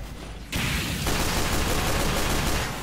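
Rapid pistol fire in Team Fortress 2, a dense run of quick shots starting abruptly and continuing steadily, loud and close with no talk over it.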